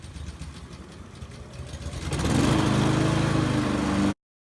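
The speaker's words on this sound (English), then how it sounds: "so let's get the mower" A 41cm walk-behind lawn mower engine runs loud and close after a quieter start, then cuts out abruptly near the end.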